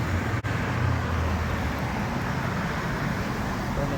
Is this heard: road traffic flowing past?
yes